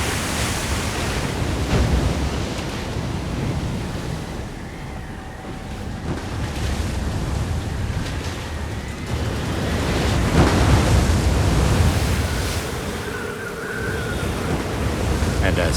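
Storm waves crash in a laboratory wave model built to test impacts on man-made structures, giving a continuous loud rush and roar of churning water that swells and eases, with no speech.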